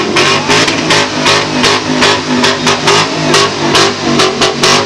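A car engine revs loudly and continuously during a street parade, rising and falling in pitch with steady throttle blips, close by and with no voices.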